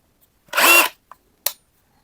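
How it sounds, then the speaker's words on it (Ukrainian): A three-mode rotary hammer drill whirs in one short, loud, close burst that stops quickly, followed by a couple of brief clicks and then silence. "Ну, я вам скажу класний ось такий перфоратор."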